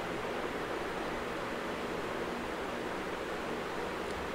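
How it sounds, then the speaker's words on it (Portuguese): A waterfall on Lake Furnas heard from a moving boat: a dense, steady broadband rush of falling water with engine and wind noise, continuous and loud throughout. "Estamos chegando aí mais uma cachoeira."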